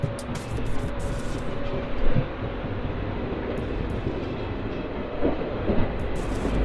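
A train rolling along rails near Bandel, a loud continuous rumble with rhythmic clatter heard from on board and no talk.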